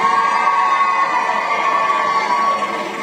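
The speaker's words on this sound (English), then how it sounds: "here's hoping it's as good as that round of applause" A figure skating arena crowd cheers and applauds for skater Johnny Weir, a steady, dense roar of many voices filling the space without letup.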